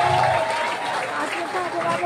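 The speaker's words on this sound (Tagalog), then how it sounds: "Ang hina naman ang palakpak nyo!" Crowd at a Philippine senatorial campaign rally claps loosely while a speaker's amplified voice carries over the applause throughout the short burst.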